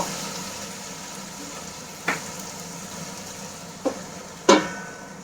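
Raw crab cooks slowly in a pan over a low gas flame for a spicy kosha curry, with a soft steady sizzle broken by three sharp, brief spatula scrapes.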